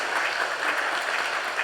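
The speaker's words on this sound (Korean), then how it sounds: "따뜻한 박수로 환영해 주시기 바랍니다" Warm applause from a church congregation during a Sunday service, welcoming two young visitors; dense, even clapping fills the room at steady moderate volume for a short burst.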